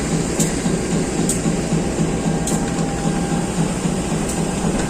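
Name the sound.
inside an economy-class train carriage of the Airlangga train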